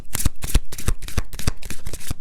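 Tarot cards shuffled close by in a quick run of crisp, rapid riffling flutters, loud and alone, with no talk.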